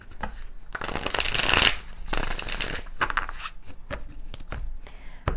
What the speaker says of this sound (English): Now shuffle for Capricorn.